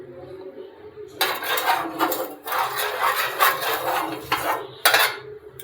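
Oil spreading across a hot tawa makes a steady scraping and sizzling rasp, near and loud, running for several seconds with short pauses.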